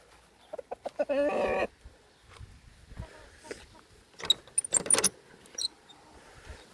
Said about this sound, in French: Ici on a le coq, une poule là, 2 poules, 3 poules, la 4e poule là-bas.